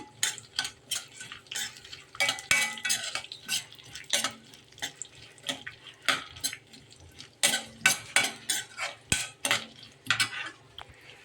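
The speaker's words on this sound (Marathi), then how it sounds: "आता भाजत आहे चारोळी" Charoli nuts roasting in ghee in a pan, stirred with a metal spoon that scrapes and clinks against the pan in quick, irregular bursts over a faint, low sizzle.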